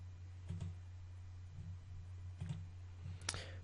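Computer mouse clicks sound at intervals, a few faint, close taps over a quiet low hum with no talk.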